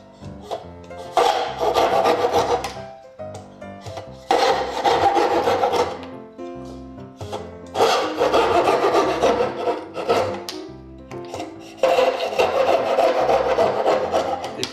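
Hand saw cutting dovetail pins in wood, heard as four loud bursts of rasping back-and-forth strokes separated by short pauses, close up with no talking.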